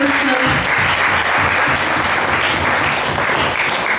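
A steady, loud round of audience applause for the panelists at an interfaith dialogue event fills the room, with a brief murmur of voices at the start.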